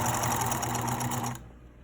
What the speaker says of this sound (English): Make sure that you don't sew off the edge of the one underneath.